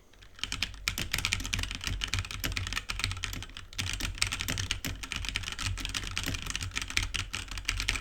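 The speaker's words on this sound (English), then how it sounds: "So we've got a mechanical keyboard here. We'll just do a little bit of typing" Rapid, steady clacking of a mechanical keyboard being typed on, close and continuous for several seconds with no talking.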